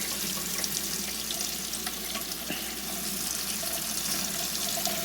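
Tap water runs steadily while an AeroPress coffee maker is rinsed at a sink, an even close splashing hiss that lasts the whole stretch.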